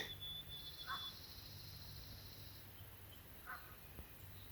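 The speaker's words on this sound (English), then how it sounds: "I'm hearing birds," Birds call outside a tarp camp at dawn, with a couple of short, distant caw-like cries, a faint high whistle and a quiet background hum.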